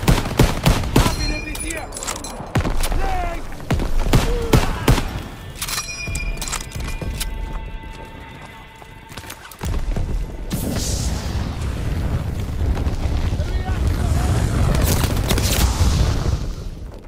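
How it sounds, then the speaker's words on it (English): Artillery and gunfire on a D-Day beach in a Saving Private Ryan-style video game: sharp, rapid shots and booming blasts in a loud, chaotic barrage, with shouted voices mixed into the din. "The artillery's killing us!"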